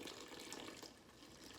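Water pours from a tap or jug onto flour in a bowl for Turkish pide dough, a brief, soft, steady splashing trickle heard alone.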